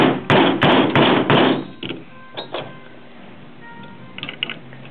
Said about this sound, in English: Using the punch to get it all the way in.